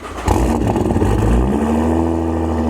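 A 1,000-horsepower car engine roars loudly and close up, its pitch climbing as it revs, a deep continuous growl with no voices.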